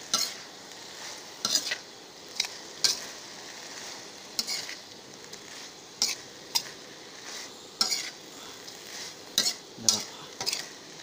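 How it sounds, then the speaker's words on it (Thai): Edible beetles roasting in a little oil in a pan, stirred repeatedly, give rhythmic scraping strokes every second or so over a soft continuous sizzle, close up with no talk. "คนไปเรื่อยๆคนจนมันแห้งน้ำมัน"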